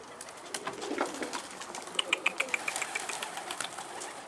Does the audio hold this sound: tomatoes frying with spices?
no